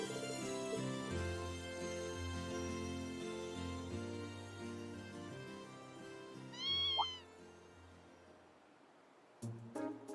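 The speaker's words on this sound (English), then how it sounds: "Kitten, really. What's a kitten doing here?" A kitten in Trails of Cold Steel II gives a single short, rising meow over the game's steady orchestral music, which then fades before a few brief sound effects.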